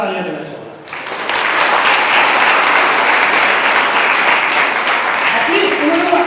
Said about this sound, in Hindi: जिसने हाथ ऊपर किया उनके कॉन्फिडेंस लेवल को मैं एक बार जोरदार तालियां देना चाहूंगा